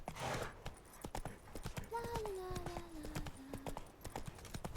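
A horse's hooves clip-clop in a steady rhythm in The Witcher 3, close and clear, with a brief neigh-like tone partway through.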